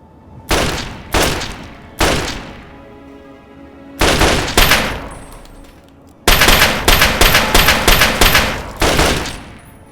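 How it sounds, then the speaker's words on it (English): Pistol gunshots in the Wasteland video game, loud and close: a few single shots, then a quick pair, and finally a rapid string of about eight shots in a row, with no talking. "My gun skill is terrible. Well, let's just see if we can try to shoot this guy."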